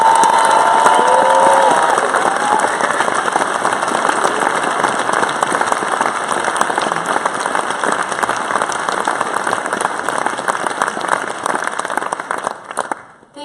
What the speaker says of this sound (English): I would like to ask you for a huge applause for Cherry